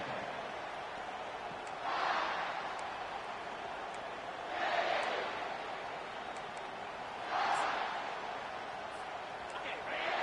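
Stadium crowd in an NCAA college football video game, a steady roar that swells into three loud cheering bursts at regular intervals.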